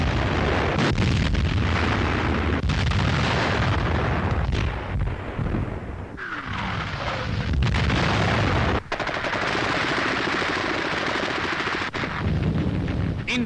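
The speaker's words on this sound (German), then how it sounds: "Artillerie bricht den letzten Widerstand im Vorgelände der Stadt." German artillery fire pounding the last resistance outside Leningrad in 1941, heard as dense, continuous booming and rattling blasts layered over one another, loud and sustained with no talk.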